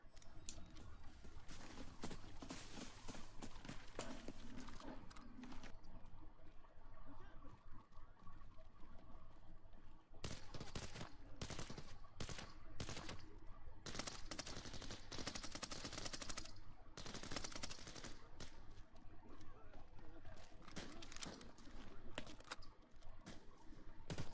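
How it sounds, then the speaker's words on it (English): Bursts of gunfire in Fortnite, a video game, come as rapid repeated shots, some in fast automatic strings and others as isolated cracks, loud and recurring across the whole stretch. "Hold up. I'm hearing shots."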